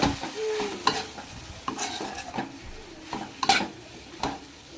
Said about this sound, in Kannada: ಧನಿಯಾ ಪುಡಿ ಒಂದೆರಡು ಸ್ಪೂನ್ ಹಂಗೆ ನೀಟಾಗಿ ಫ್ರೈ ಮಾಡ್ಕೊಳ್ಳಿ